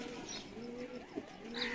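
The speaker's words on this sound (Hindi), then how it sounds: "ऐसे ऐसे कबूतर दिखाऊंगा कि दिल खुश कर दूंगा" Pigeons coo softly in a rooftop loft setup in Lahore, a soft repeated throaty burbling close by, with faint chirps and background hum and no talk.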